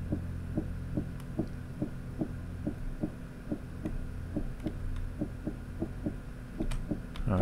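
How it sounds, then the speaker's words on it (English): A fast, steady heartbeat pulses throughout a horror video game escape sequence, evenly spaced thumps repeating over a low droning hum with occasional faint clicks. "I hear the heart beating real fast."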